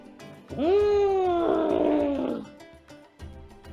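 A human voice imitates an elephant's trumpeting call during a zoo-themed animal workout: one loud, drawn-out, strained cry that swells and holds for about two seconds, then fades into quieter room noise.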